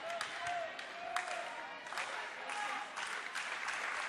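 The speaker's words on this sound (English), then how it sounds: "Got the slow clap" Spectators at a high school varsity volleyball match keep up rhythmic clapping in a large gym, loud beats spaced roughly half a second apart over a crowd murmur, while a commentator talks over it.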